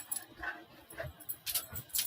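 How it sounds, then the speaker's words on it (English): A puppy makes soft, brief whimpers and snuffles in short bursts nearby, faint with small rattling sounds in between. "My puppy needs outside."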